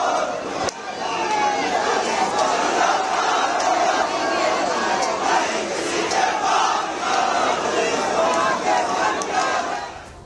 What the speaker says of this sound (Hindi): तो प्रदर्शनकारी हिंदू अपनी आवाज बुलंद कर रहे हैं